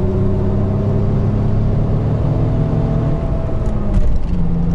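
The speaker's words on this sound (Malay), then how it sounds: "Walaupun saya pakai straight pipe ni, ada satu muffler dekat belakang, tapi bunyi tak kuat langsung." A sim racing video game car engine with a straight pipe and one rear muffler drones loudly and steadily with a raw, rumbling tone, holding near-constant revs throughout.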